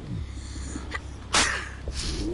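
A single sharp sneeze bursts out midway through, loud and close, set against quiet background noise with a few faint breaths around it.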